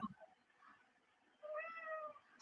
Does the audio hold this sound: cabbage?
no